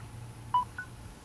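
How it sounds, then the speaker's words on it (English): A mobile phone charging from an Allpowers 28-watt 18-volt solar charger gives two short electronic beeps close together, quiet over a low steady hum. "Okay, the phone beeped."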